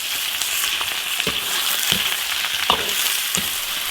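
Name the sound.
softshell turtle meat stir-fried in an iron wok with lard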